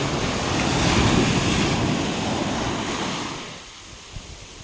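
Gentle sea waves wash in a soft, continuous rush with light wind on open water during a calm fishing trip, fading to a quieter lull near the end.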